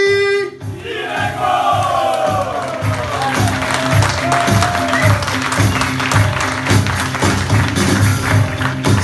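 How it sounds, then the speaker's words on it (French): Live audience at a Kikadi game night gives a champion player a loud, thunderous ovation, a dense wash of clapping and crowd noise that keeps going steadily for several seconds. "Un tonnerre d'applaudissements pour Eric"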